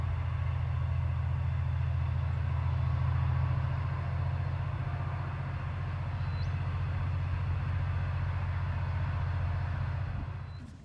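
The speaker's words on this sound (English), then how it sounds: "There goes the train." A train rumbles past at a distance during an afternoon of metal detecting outdoors, a steady low droning roar that holds for about ten seconds before fading at the end.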